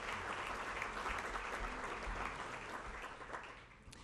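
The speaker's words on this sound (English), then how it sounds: "give yourself a round of applause for being so committed to this" A crowd applauds steadily for about four seconds, a dense, even clatter of many hands clapping that fades slightly toward the end.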